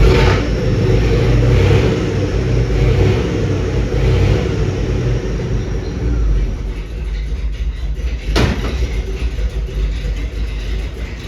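1959 Chevrolet Impala convertible engine idling a little low, a loud, close, steady rumble with a slightly uneven lope and a brief sharp knock near the end, no speech.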